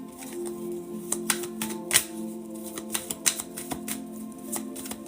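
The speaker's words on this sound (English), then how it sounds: "Shuffling for Nadia at this time." Deck of cards shuffled during a tarot-style reading, a steady run of papery riffles and flicks with sharper slaps near two and three seconds, close and fairly quiet with no talking.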